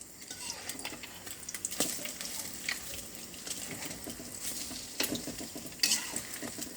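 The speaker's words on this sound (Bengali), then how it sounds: "এটা ভাজতে বেশিক্ষণ সময় লাগে না" Bread dipped in egg fries in a hot pan with a steady crackling sizzle, close by, broken by occasional scrapes and clinks of a utensil against the pan.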